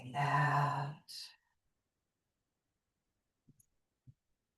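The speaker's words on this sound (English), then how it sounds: "And breathing out." A slow exhale in a yoga breathing exercise, a close, breathy voiced release of air about a second long, trailing into a short puff and then near silence with a couple of faint soft thumps.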